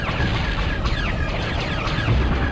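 An orbital cannon explodes in the video game Star Wars: Clone Wars, giving a dense, continuous rumbling roar of booms and crackling debris that stays loud for the whole stretch.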